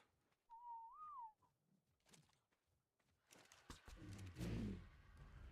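A single rising-and-falling whistle command rings out clearly in ARK Survival Evolved on the Ragnarok map, followed by scattered game noises and a rumbling burst of activity.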